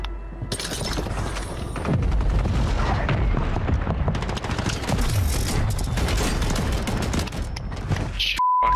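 Shotgun fire in the Call of Duty Warzone video game, with heavy booming blasts and crackling gunfire over a dense, loud game soundtrack, ending in a sudden cut and a short electronic beep.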